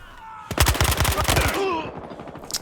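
Rapid, loud close-range bursts of MP5K submachine gun fire in the video game Battlefield Hardline multiplayer, a fast rattling string of shots lasting about a second before fading into game noise.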